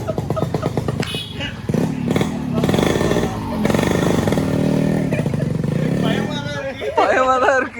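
A Yamaha RX 135 motorcycle runs with a continuous, fairly close engine drone that rises and falls with throttle, under background chatter and music.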